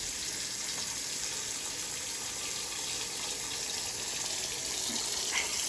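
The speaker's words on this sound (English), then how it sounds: "right now I'm gonna wash my hands" Tap water runs steadily into a kitchen sink while hands are washed, a close, continuous hissing splash that holds level throughout with a few faint clinks near the end.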